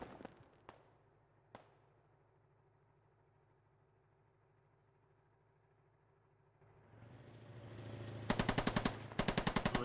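Gunfire from a Squad video game firefight: a few sharp isolated shots early, then a quiet stretch over an engine-like hum, building to loud rapid bursts of automatic fire near the end.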